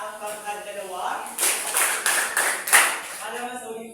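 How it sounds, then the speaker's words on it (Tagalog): Applause in a classroom during a teacher's demonstration lesson: a few seconds of brisk, scattered clapping from the students, starting just after a teacher's voice and continuing under light talk. "bigyan din natin ng palakpak ang pagkadalawa"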